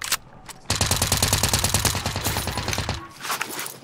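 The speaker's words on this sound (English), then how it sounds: "they shooting me" Automatic weapon fire in Call of Duty: Modern Warfare rattles in one sustained, rapid burst of close, loud shots lasting about two seconds, with quieter game sounds before and after.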